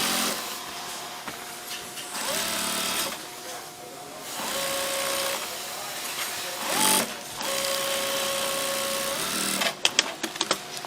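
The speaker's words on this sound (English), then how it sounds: "So that's the bottom, hemming the bottom of the front panel." A sewing machine hemming the bottom of the front panel of a patient gown runs in several bursts of rapid whirring stitching, close and loud, with short pauses between runs.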